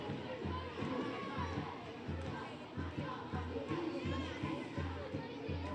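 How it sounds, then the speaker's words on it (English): Children in a stadium crowd at a women's rugby match, Brazil against Peru, cheer and shout in a dense, continuous roar, steady and fairly distant, with scattered chatter mixed in. "Lots of children in the crowd cheering and dancing."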